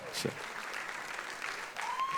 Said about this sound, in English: Please put your hands together to welcome the host of this evening, Saveen Hegde.